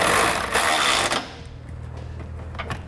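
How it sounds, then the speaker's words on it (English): A 19mm socket on a ratcheting power tool runs down an M12 bolt while a Curt trailer hitch receiver is fitted to a 2017 Mazda CX-5: a loud close whirring burst stops abruptly, followed by faint clicks and handling noise. "I'm going to be using a 19mm socket on that M12 bolt."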